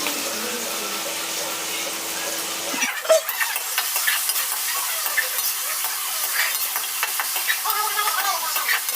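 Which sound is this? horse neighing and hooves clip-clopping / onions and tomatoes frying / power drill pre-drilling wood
onions and tomatoes frying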